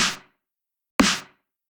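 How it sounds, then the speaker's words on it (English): Two snare drum hits sound about a second apart, each a crisp crack with a short ringing tail, isolated against silence. "Completely different snare. Sounds like this."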